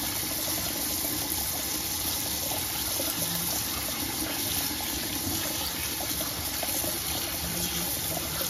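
Cold tap water runs steadily over Irish moss seaweed in a sink, a constant soft hiss and trickle at close range with no talking.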